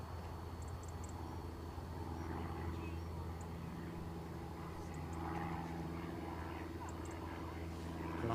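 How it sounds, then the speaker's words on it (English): A Piper light aircraft passes overhead as a faint, steady propeller drone with low-frequency rumble, distant and continuous, accompanied by faint speech. "The overfly is a Piper"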